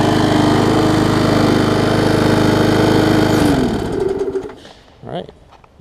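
A cheap push mower with a classic Briggs & Stratton engine runs steadily and loud for about three seconds, then cuts out and sputters to a stop, followed by faint handling noises and a brief voice.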